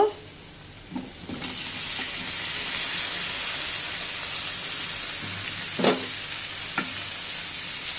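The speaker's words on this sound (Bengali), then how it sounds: "পেঁয়াজটা বেশি পোড়া পোড়া করা যাবে না, একটু কাঁচা কাঁচা থাকতেই আমি ঢেঁড়সগুলো দিয়ে দিব" Sliced okra and green chillies frying with onions in a pan give a steady, dense sizzle throughout, broken by a few clinks and scrapes of stirring.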